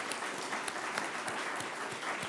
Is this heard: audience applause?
yes